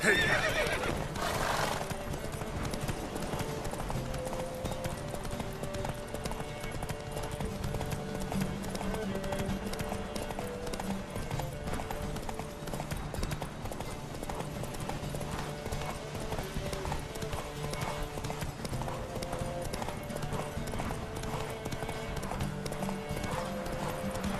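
Hooves pound in a fast, steady galloping rhythm in a horse race in The Witcher 3 video game, with a horse whinnying over a low musical backdrop.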